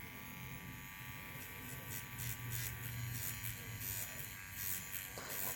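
A Wormhole Pro Bootes adjustable-stroke cordless tattoo machine runs at about 9 volts, giving a steady close-up electric buzz with a faint whine that holds at an even level throughout.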